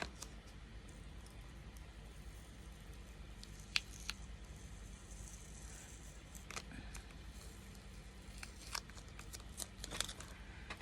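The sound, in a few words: peeling off painter's tape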